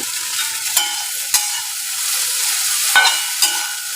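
Okra sizzles in a hot pan as whole green chillies go in. A close, steady frying hiss is broken by several sharp scraping stirs of a spoon against the pan, with no talking.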